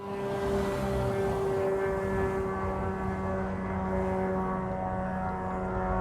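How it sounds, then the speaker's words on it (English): A drone flies in the sky outside a kitchen window, its steady droning engine hum loud and continuous for several seconds, with no talk. "This is drone."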